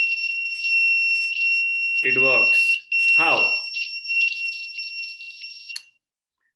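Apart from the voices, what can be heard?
electric buzzer plugged into a power element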